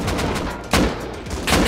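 Heavy M249 machine-gun fire in Rust, heard as loud, close bursts with two or three sharp, prominent shot peaks rising over a steady, noisy background roar.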